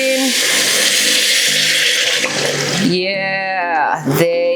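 Homemade chicken broth, about 1.2 liters, pouring into a pot for a bee hoon noodle soup, a steady loud liquid rush throughout that shifts to a higher gurgling toward the end.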